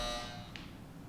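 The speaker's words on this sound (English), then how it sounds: "The person that rang the bell was my roommate" An apartment door buzzer rings loudly in a New York City apartment, a steady electronic tone that cuts off after a fraction of a second, followed by a quiet room with faint background hum.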